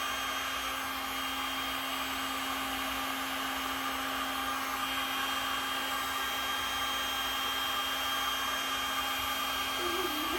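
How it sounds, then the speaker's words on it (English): A heat tool blows steadily over thick poured resin near the end of its working time, a constant close whir with a faint tonal whine running unbroken and alone throughout. "I'm using a little bit of heat on these simply because this is pretty much towards the end of this work time."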